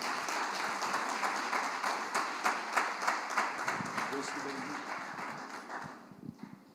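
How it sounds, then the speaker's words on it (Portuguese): A church congregation at a Sunday celebration service applauding, a crowd of many hands clapping steadily with some sharper individual claps, moderately distant and gradually thinning toward the end. "Vamos aplaudir ao Senhor."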